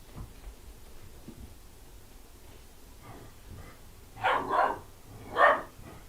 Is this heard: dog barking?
yes